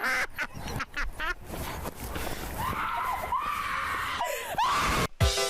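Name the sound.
screaming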